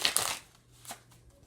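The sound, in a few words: shuffling cards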